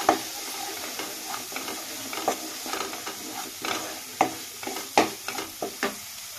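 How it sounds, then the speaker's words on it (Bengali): Spiced banana flower curry with cumin powder is stir-fried in a pan, producing a close, steady sizzle broken by a string of sharp spatula scrapes and knocks. "তো দিয়ে ভালো করে আমি এটাকে কষিয়ে নেব।"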